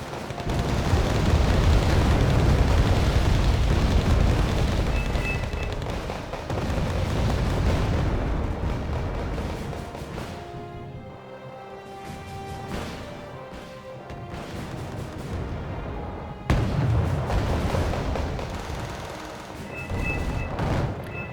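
Buratino rocket launcher salvos pound the battlefield in Wargame: Red Dragon, with a dense, continuous roar of explosions and crashing impacts that eases into scattered blasts and then swells again, with no voices over it.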